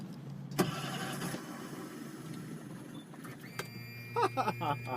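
A boat's outboard engine cranks and fails to catch, with a sharp clunk early on and a steady low hum throughout, followed near the end by a few quick rising whirrs as it is tried again.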